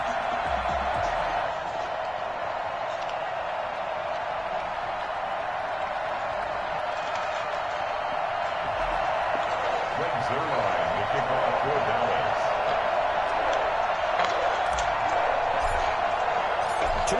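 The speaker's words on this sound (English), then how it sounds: "The enthusiasm of this Cincinnati crowd in full effect a moment ago as their Bengals took the field to the delight of this sold-out crowd" Sold-out stadium crowd in Cincinnati roaring steadily as the Bengals take the field for an NFL game against the Dallas Cowboys, a dense, continuous wash of cheering throughout with no gaps.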